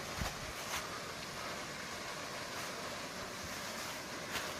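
A small waterfall in a wilderness cove in November roars steadily, a dense continuous wash of falling water with some wind-like noise and no voices.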